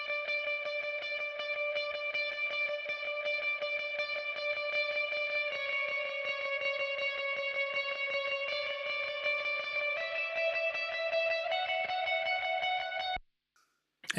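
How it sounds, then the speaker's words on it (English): High electric guitar through a Kemper Profiler with shimmer reverb, playing sustained, chiming notes that shift pitch every few seconds in a continuous wash. It stops abruptly near the end. "the shimmer guitar, which is a high guitar with some reverb, shimmer reverb sound"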